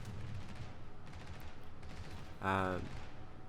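Anti-aircraft guns fire in World of Warships while a Colorado battleship fights a ranked match, a rapid rattling stream of flak bursts running throughout, with one louder, sharper blast near the end.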